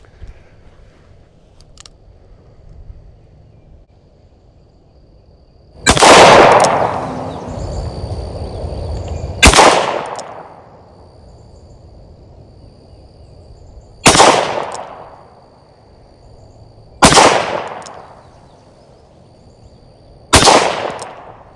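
Five loud, close gunshots from a WWII-era S&W Victory .38 revolver at a shooting range, single sharp blasts spaced several seconds apart, each with a ringing decay, over quiet outdoor background.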